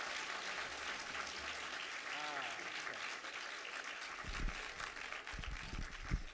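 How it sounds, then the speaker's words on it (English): An audience at a live conversation event gives a round of applause, a sustained broad clatter of many hands, with a brief voice and some low thumps breaking through near the end. "one more round of applause for MJ"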